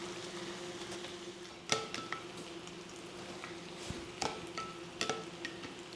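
A spoon stirs a large batch of pasta mixture in a pan, giving soft squishy scrapes and a few sharp clicks against the pan under a steady low hum, fairly quiet with no talk.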